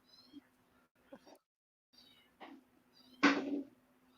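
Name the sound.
rescued kitten meowing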